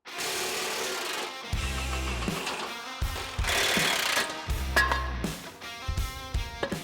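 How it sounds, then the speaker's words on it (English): An angle grinder cuts off an old suspension mount on a GQ Patrol chassis, a loud continuous metallic whine and grind running throughout, broken by brief low-frequency thumps and shifts in pitch as the disc bites into the steel. "It's got to get cut off with the grinder."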